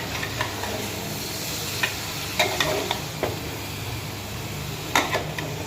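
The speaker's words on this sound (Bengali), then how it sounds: "তো আমি এই যে তরকারিটা নেড়ে দিচ্ছি" A spoon stirs curry in a pan over a steady background sizzle, with scattered scrapes and taps against the metal, close and moderately loud.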